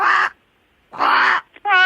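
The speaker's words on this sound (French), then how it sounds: "Ça, c'est la voix d'un corbeau." A crow's harsh caws come through a phone line: two loud, drawn-out calls separated by silence, then a short clipped one and the start of another, all close and alone.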